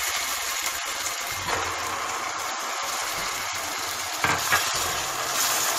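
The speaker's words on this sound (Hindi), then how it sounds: "हल्का सा फ्राई करेंगे बस," Onion, ginger garlic paste and tomato frying in a pan for an egg spinach curry, a steady close sizzle and hiss with a couple of brief stirring scrapes.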